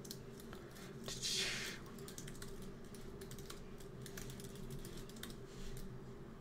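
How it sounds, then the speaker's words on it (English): Rapid, light keystrokes on a computer keyboard as a password is typed on a Linux homelab setup, steady clicking close up with a brief louder burst, no talk. "type in the right password"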